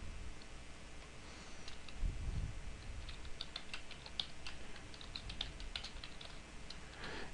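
Code is typed on a computer keyboard in a steady run of soft, quick key clicks, close and quiet, with a brief low thump partway through.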